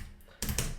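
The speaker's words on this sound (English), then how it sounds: "very good typing" Typing on a computer keyboard while coding in Java, a faint patter swelling into a quick cluster of louder key clicks.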